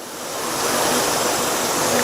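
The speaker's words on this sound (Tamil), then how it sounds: "அதை இந்த மிக்ஸி ஜார்ல சேர்த்துட்டு இது கூட வறுத்த வேர்க்கடலையை சேர்த்துட்டு தண்ணி சேர்த்து அரைக்கணும்" A kitchen mixer grinder whirs loud and dense as it grinds roasted peanuts with water in its jar for chutney, the roar building quickly and holding steady.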